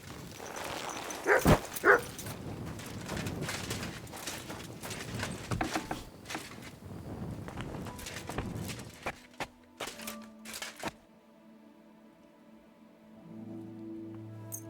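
A dog barks a few times and gives short whimpers in the video game Kingdom Come: Deliverance II, with rustling, patter-like ambience of game sounds around it, ending in quieter background tones.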